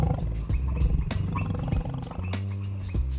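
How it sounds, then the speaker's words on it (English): A tiger lets out several deep, forceful roars in close succession, loud and rhythmic, with other background sound mixed in underneath. "The biggest cat in the world, the tiger"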